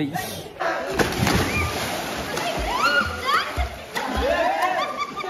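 Water splashes and sloshes repeatedly as a person goes into it at Alibag, with excited voices and shouts mixed in nearby.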